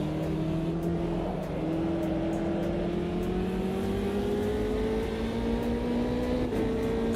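A race car engine in the Automobilista 2 sim racing game holds a steady, rising drone close up, pitch climbing gradually as it accelerates on track, with no voices over it.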